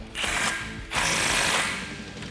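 A nut on the steering stabilizer of a Jeep Wrangler JK is tightened with a ratchet, giving two bursts of quick metallic clicking and rasping close by, with no talk.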